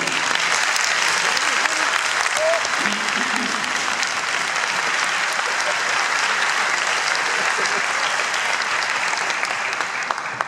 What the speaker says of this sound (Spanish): Muchas gracias por el aplauso para Juan.